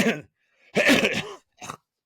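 Three harsh cough-like bursts separated by short silences, the middle one longest and loudest, close to the listener.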